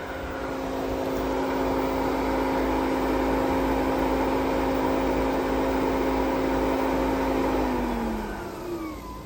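A Hayward pool pump runs while priming, giving off a steady, loud motor hum with a strong tonal whine that holds for about eight seconds, then drops slightly as it winds down.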